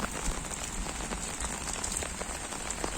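Heavy rain falls steadily on a surface, producing a dense, even hiss with scattered drop patters throughout. No one speaks.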